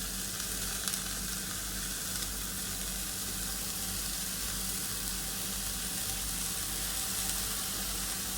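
Chopped onion greens hitting a hot pan already seasoned with turmeric and salt, giving a steady, dense sizzle and frying hiss that holds evenly throughout without pause, close and fairly loud.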